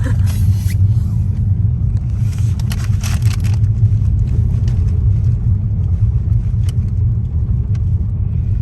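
A car creeps slowly down a steep, bumpy dirt road with the brakes held, giving a steady, close low rumble throughout with a few faint rattles and knocks.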